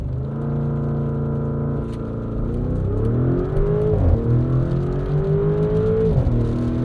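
A 2024 Porsche Cayenne S V8 SUV launching from a standstill with traction control off, its engine roaring steadily and rising in pitch through each gear, with loud, close, sustained revving and distinct shift breaks.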